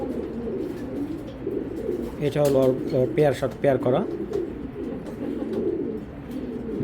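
Racing pigeons coo softly in a loft, the low murmuring calls continuing under a man's speech, with a clearer burst of cooing midway.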